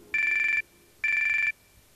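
A Siemens SF65 camera mobile phone plays its ringtone in a TV advert: two identical bright electronic rings, each about half a second, separated by a short gap, loud and clean.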